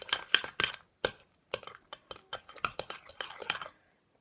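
Kinetic sand is stirred into slime in a bowl, making a series of close, sharp scraping clicks and taps of a utensil against the bowl in irregular bursts, with no talking.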